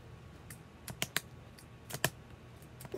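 Scattered sharp clicks from someone pressing keys on a freshly unboxed secondhand mechanical keyboard with a broken keypad enter key, irregular and close, with quiet gaps between the taps.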